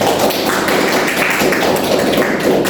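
A classroom gives a student a round of applause. Dense, steady clapping fills the whole stretch at a fairly loud, even level, with no voices.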